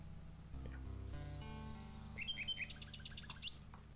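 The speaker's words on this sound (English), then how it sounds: "A nightingale perches on a high branch of the tree. She sings the most beautiful song Alexander has ever heard." A nightingale sings in the King's Quest VI video game, giving a run of quick, bright chirps and whistles late in the passage, soft against a quiet synthesized musical backdrop without speech.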